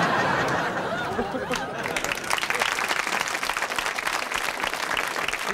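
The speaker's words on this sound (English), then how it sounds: "little applause, a little applause, a little applause." A studio audience breaks into applause and some laughter after a stand-up comedian's joke on a television magic variety show, a dense, steady wash of clapping that swells and holds.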